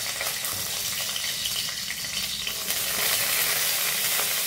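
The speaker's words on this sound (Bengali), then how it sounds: "জাস্ট একটু রসুন আর এই লঙ্কাটা একটু ফ্রাই হবে" Garlic and green chilli frying in a small amount of oil in a wok, a steady close sizzle with light stirring scrapes, growing slightly louder toward the end.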